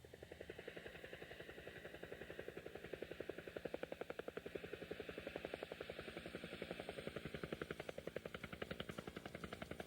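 A fast, powerful helicopter in the LaserActive video game High Roller Battle thumps with rapid, evenly spaced rotor beats over a buzzing engine drone, loud and continuous throughout.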